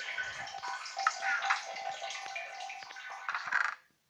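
Flowing water in the Minecraft video game makes a continuous splashing, trickling wash with small bubbling pops, fairly close, then cuts off suddenly at the end.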